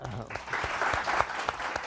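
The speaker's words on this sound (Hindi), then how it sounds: "तो पहले इनके लिए तालियां" An audience claps for the directors present at an event, a short, fairly faint patter of applause with speech-like sounds mixed in.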